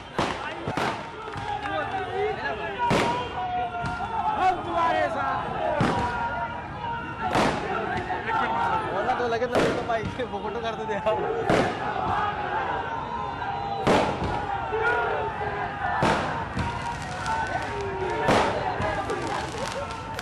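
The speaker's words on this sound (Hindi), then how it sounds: "समर्थकों की भारी भीड़ यहां पर आप देखें" A large crowd of supporters celebrates a politician's release on bail in India, a dense continuous roar with sharp bangs like firecrackers popping at regular intervals throughout.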